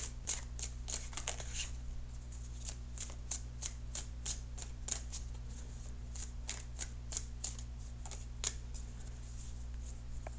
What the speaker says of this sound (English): I will cut the cards and begin the reading